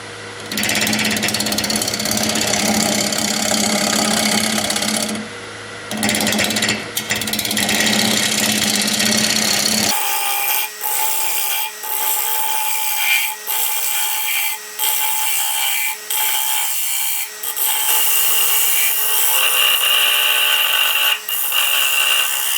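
A persimmon bowl blank spins on a wood lathe, wobbling as it whirls, giving a loud, steady mechanical whir with rhythmic pulsing throbs that shift in character partway through.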